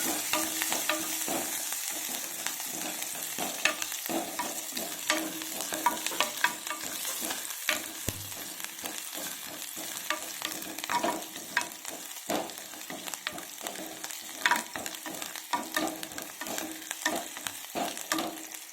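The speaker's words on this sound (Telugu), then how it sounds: "పచ్చిమిర్చి ముక్కలు, ఫ్రై అవ్వాలి బాగా." Green chilli pieces fry in hot oil with a constant crackling sizzle, and a utensil keeps stirring through them, adding frequent scrapes and taps against the pan for a long, even stretch.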